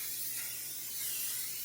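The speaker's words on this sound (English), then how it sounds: "Now what we're going to do is put us a little spray on here." Cooking spray hisses steadily from a can onto a hot, well-used non-stick skillet, a continuous airy spray sound that holds for a moment without talk.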